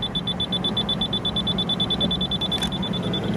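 A 1993 Toyota HiAce Super Custom van gives off a rapid, evenly spaced high-pitched electronic beep, repeating steadily and loudly with no pauses, close by and alone.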